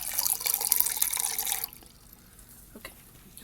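Tap water runs into a measuring cup in a kitchen, a steady bright splashing stream for about a second and a half, then it cuts off, leaving faint drips and small clinks.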